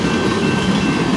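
A CP Rail freight train, partly oil tank cars, rolls past at close range in a neighborhood, a steady loud rumble with rail clatter running the whole time and no talk.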